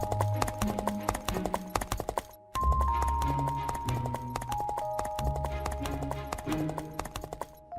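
A horse's hooves clip-clop steadily and briskly, close and clear, as it travels along a village road and through fields toward the in-laws' home after dark. Background music plays throughout, with a short gap partway through.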